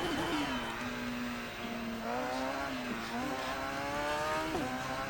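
Radical race car engine in Assetto Corsa at Bushy Park, Barbados, droning steadily close up with rising and falling revs and shifting harmonics, running without pause through the whole stretch.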